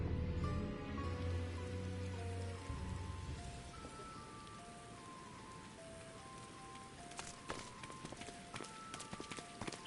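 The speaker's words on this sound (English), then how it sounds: "It's raining here?" Steady rain in Final Fantasy XIV Endwalker hisses continuously as a broad wash, with game music and occasional hoof-like clip-clop sounds layered over it.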